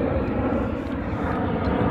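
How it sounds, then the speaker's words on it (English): A fixed-wing airplane drones overhead outdoors, a loud, steady engine rumble that fills the whole moment without pause. "Plane."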